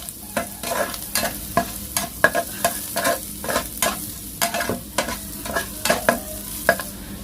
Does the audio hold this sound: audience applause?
no